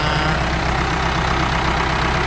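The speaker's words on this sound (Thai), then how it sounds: "ฟังเสียงเครื่องกันนะครับ" An old Ford 5000 tractor engine idles steadily, a loud, close, low rumble with a constant rough throb and no pauses.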